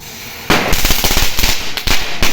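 Firecrackers bursting at a Diwali celebration: after a quiet start, a loud, near, rapid crackling string of sharp pops runs continuously, with a few heavier bangs toward the end.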